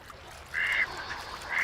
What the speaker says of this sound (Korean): 한가로이 먹이를 찾고 있는 흰뺨 검둥오리